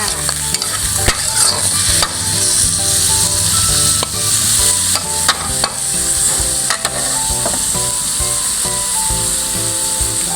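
Pork stir-frying with red curry paste in a hot pan, a loud continuous sizzle with frequent clanking and scraping of a spatula against the metal.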